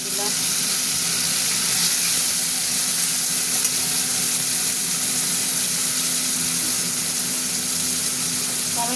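Onion and tomato sizzle steadily in a hot pan, a continuous close frying hiss that holds at an even level throughout.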